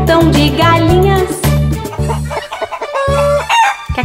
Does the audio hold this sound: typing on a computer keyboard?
no